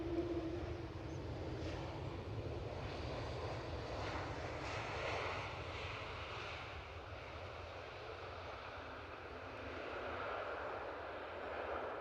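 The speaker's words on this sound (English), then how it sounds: "So Ryanair is just about to take the runway." A Ryanair airliner's engines drone steadily at a distance on the runway at Edinburgh Airport, a broad continuous rumble that holds fairly even throughout with no voices.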